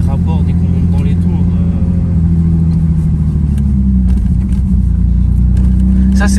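A car with a 2.5-litre engine pulls hard, its loud, steady engine drone rising through the gears beneath continuous conversation inside the cabin.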